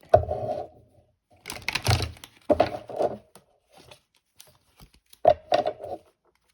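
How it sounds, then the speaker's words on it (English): Quick bursts of riffling and flapping card shuffles, three or four close-up rounds separated by short pauses, with no talking. "Shuffle the deck."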